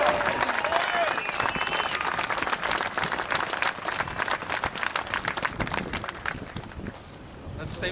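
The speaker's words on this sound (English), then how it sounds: "Let's give a big hand to all the mama bears in the crowd today." Rally crowd at an outdoor Second Amendment event in Boston breaks into sustained applause, dense clapping filling the whole stretch and fading a little near the end.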